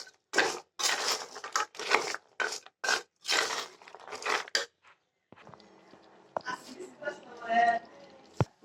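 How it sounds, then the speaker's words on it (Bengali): A voice talks at first; then gaja pastries stirred continuously in a pan over low heat make soft scraping and light clinks, close and fairly quiet, with a few louder knocks. "এবারে চুলার আঁচটা কমিয়ে আমি এগুলো দিয়ে দিয়েছি, অনবরত নাড়তে থাকবো"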